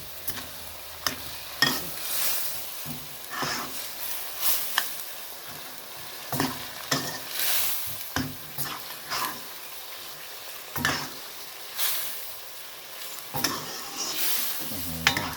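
Spicy beef is stir-fried in a pan, with a soft background sizzle under repeated scraping and clanking stirs that come in uneven bursts at close range.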